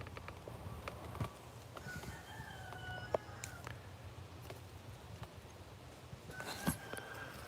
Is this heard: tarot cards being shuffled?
no